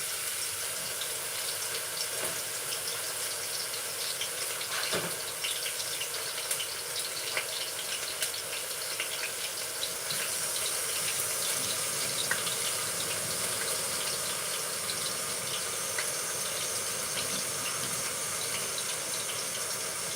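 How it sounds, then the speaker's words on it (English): A kitchen tap runs steadily in a home kitchen during cooking, a continuous broadband rush of flowing water that holds close and fairly loud for the full length without pause and with no talking over it. "And the water running down loud here."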